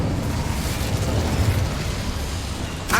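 An Incendio fire spell striking a boiler in Hogwarts Legacy, a dense roaring burst of flame and rumble sustained throughout, ending in a sharp crackle.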